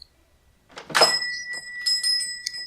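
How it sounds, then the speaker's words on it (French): A small shop bell rings at a door, with a soft thunk followed by bright, clear chimes that ring out and repeat a few times close by. "Donc il y a une petite cloche qui sonne."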